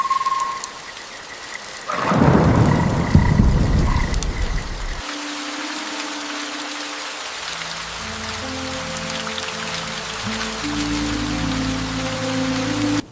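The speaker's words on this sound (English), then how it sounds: "A thin drizzle covered the pavement." Rain falls in the streets of a small town in the Brazilian Amazon, heard as a steady wash of drops on the ground, briefly louder early on before settling into a continuous patter with croaking frogs and a low tonal bed.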